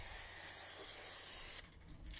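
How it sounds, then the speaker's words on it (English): Spray glue hissing from a can into the bottom of a cardboard box, one long steady close spray that cuts off abruptly, followed by faint handling sounds. "spray this if you're using spray glue on the bottom of the box"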